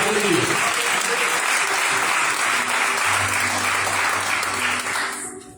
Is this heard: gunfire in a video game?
no